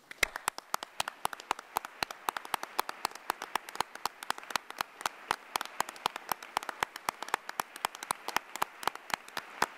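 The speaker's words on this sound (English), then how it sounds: "please give them a warm round of applause for all they do to make our county" An audience at an arts and humanities awards ceremony claps steadily for nearly ten seconds, individual sharp claps crisp and close amid a dense spread of hands.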